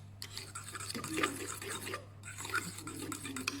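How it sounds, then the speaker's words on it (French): A spoon stirs blanquette de veau seasoned with salt, pepper and brown sugar in a pot, giving soft, continuous scraping and rubbing strokes against a steady low hum. "du sel, et du poivre. Vous mélangez le tout."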